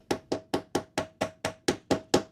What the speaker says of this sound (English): now it's time to use my super professional chisel. Yeah, I only have a flathead.